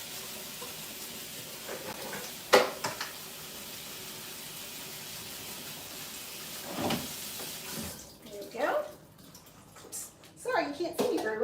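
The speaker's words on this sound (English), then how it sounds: "So let's go ahead and rinse these off." Tap water runs steadily over pre-soaked dry beans as they get rinsed, a faint continuous hiss broken by a few louder splashes, with talking in the later part.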